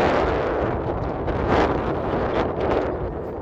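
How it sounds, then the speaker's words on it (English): Strong outdoor wind buffets the microphone with a steady, loud, low roaring rumble that swells slightly and never lets up, drowning out any other sound. "wind's cutting through"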